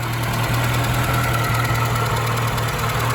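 A 1984 Peugeot 205 GT engine runs at a steady idle, a constant low hum with faint rhythmic ticking throughout, close and alone with no voices.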